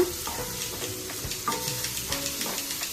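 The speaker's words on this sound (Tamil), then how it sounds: "அதையும் ஆட் பண்ணிக்கிறேன். ஆட் பண்ணிவிட்டு நல்லா மிக்ஸ் பண்ணிடுங்க." Green chili and chopped medium tomatoes fry in a pan for egg kothu bread while a spoon stirs them. Close, steady sizzling comes with irregular scraping and clinking strokes.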